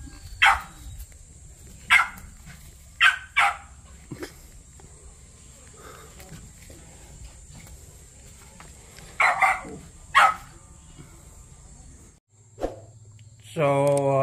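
A pet guard dog on a rural vegetable farm barks in short sharp bursts, two or three at a time, over steady outdoor background noise, fairly close and loud, with a brief voice at the end.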